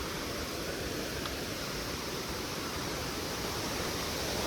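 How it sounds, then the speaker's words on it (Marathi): Ghonsari waterfall near Kankavli in the Konkan, swollen by rain, pours down in a steady, loud, unbroken roar of falling water with no voices over it. "बऱ्यापैकी पाण्याचा आवाज आहे मोठ्याने"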